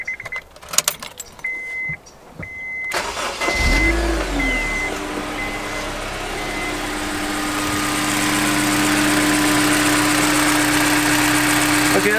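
After a few electronic chimes, a Honda S2000 engine fires up close by and settles into a steady idle with slight ticking, humming evenly for the rest of the clip.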